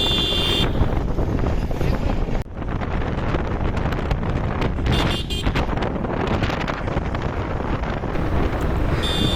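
Steady, heavy wind buffeting the microphone, a loud low rumble running throughout with brief gusty dips.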